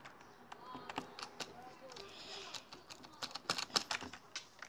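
Rapid irregular key clicks from a computer keyboard, moderately close and quiet, tapping in uneven bursts that grow busier toward the end, with no talking.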